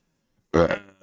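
Silence breaks into a single loud, close burp that trails off, followed by a short voiced sound.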